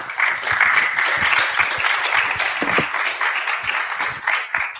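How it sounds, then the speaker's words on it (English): Audience applause at a digital asset summit in Africa, dense steady clapping from a large crowd sustained throughout, loud and close with a brief swell near the middle. "A round of applause for them"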